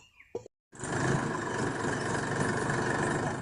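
A tractor engine idles steadily close by after a brief sound and a moment of silence, a continuous low rumble with no talking.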